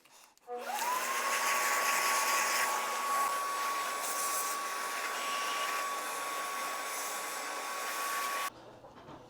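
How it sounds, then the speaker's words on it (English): A vacuum cleaner whines steadily and loudly with a high motor tone, sucking sawdust out of a hole, starting abruptly and running for about eight seconds before cutting off. "get the vacuum and take the sawdust out of that hole"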